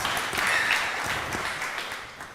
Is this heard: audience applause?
yes